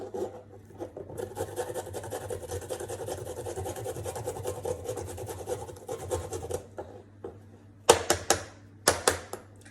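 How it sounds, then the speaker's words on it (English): Fresh ginger rubbed over a ginger grater, giving a steady close rasping scrape for several seconds, then a pause and a few short, sharper scraping strokes near the end. "Trusty ginger grater."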